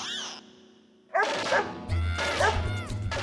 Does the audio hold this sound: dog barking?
yes